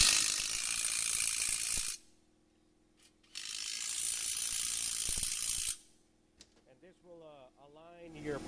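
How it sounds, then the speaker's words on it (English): Impact gun driving converter nuts onto transmission torque converter studs on a Ford 5R55S, two loud sustained rattling bursts separated by a pause, followed by someone talking briefly. "And then get your impact and drive it in."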